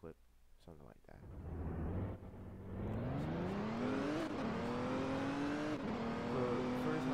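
A car engine in the Roblox game ERLC, Liberty County, revs loud and rising, pitch climbing and holding high after a brief dip, with a few sharp clicks at the start.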